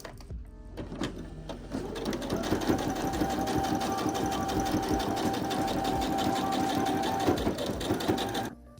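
A sewing machine bastes the raw edges of a vest flap together, running as a fast, continuous mechanical chatter for several seconds before stopping.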